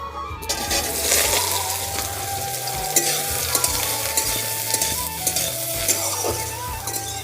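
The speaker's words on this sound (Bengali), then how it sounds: "তেলটা গরম হয়ে গেছে আমি এই সোয়াবিনগুলো ভেজে নিচ্ছি" Soybean chunks sizzle loudly in very hot mustard oil in a kadai, a dense continuous crackle and hiss with occasional spatters and utensil knocks, close and steady.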